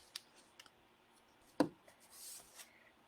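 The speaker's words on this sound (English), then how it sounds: "I'm just going to trim that off." Scissors trimming overhanging cardstock on a handmade card, a few quiet snips and one crisp cut, close and faint in a still room.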